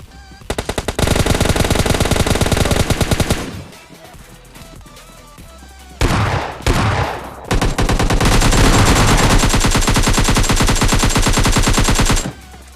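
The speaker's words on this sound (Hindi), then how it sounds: "अब दो जगह गोलियां चल रही थी" Rapid automatic gunfire bursts loud and close, with two sustained volleys separated by a brief lull of scattered shots and clatter.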